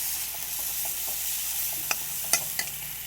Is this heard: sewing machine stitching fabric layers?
no